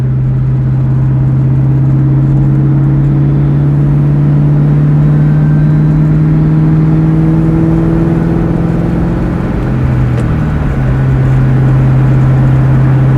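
A 2003 Mustang SVT Cobra drives with a loud, steady engine drone and rumble heard from inside the car, its pitch holding even and then shifting briefly near the end, with no talking.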